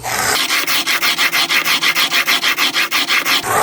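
A fixed blade broadhead is stroked across a low grit abrasive in a steady rhythm of about a dozen quick, rasping rubs, close and loud, with no talking.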